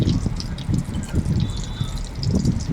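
Pakoras fry in hot oil, a dense, close, continuous crackle and bubbling sizzle at steady loudness throughout.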